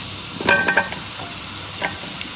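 Garlic, about half a tablespoon, sizzles in a hot pan, with a few short bursts of frying crackle and the scrape of stirring, close and fairly quiet.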